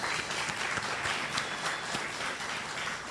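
A town hall audience at Hollywood Park Casino applauds, a continuous even wash of many hands clapping at moderate distance, steady without any pause or talk.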